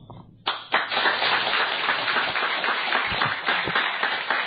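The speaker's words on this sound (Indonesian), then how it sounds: "Anda tepuk tangan apa?" An audience bursts into sustained applause after a brief quiet moment, many hands clapping loudly and densely throughout, with no talking over it.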